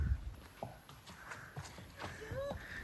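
A horse walks at a kids' play area, with faint, sparse clip-clop hoof steps under distant ambient noise and a brief voice.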